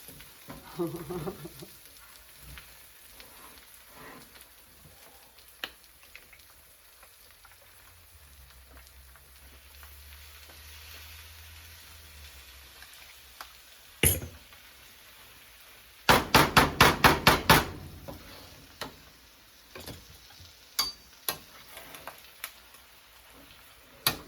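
Egg fried rice stir-fried in a wok with a big wok spatula: a steady low sizzle under sharp metallic scrapes and clanks, including a quick run of rapid taps, close and loud.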